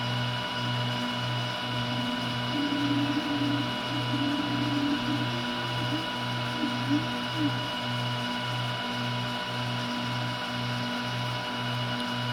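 Elegoo Neptune 4 Max 3D printer at work, printing small figure parts, giving a steady close mechanical hum with a rapid, regular pulsing stepper-motor rhythm and faint intermittent chatter of moving parts throughout.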